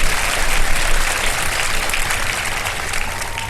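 A studio audience claps steadily for a television show, a dense, loud wash of applause that runs unbroken and alone throughout.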